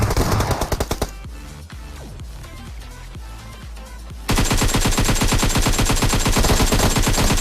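Gunfire in the PUBG Mobile battle royale game: a quick burst of shots, then scattered single cracks, then a dense rapid automatic volley that runs loud to the end.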